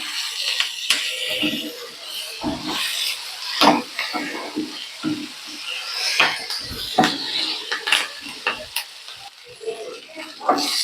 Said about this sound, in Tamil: பாவக்காயை அடிக்கடி நம்ம இப்படி கிளறி விட்டுக்கிட்டே இருக்கணும், இல்லைன்னா அடி பிடிச்சிடும்